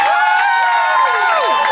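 A live comedy audience cheers and yells loudly, with overlapping voices rising and falling in pitch over a bed of clapping, all close and energetic.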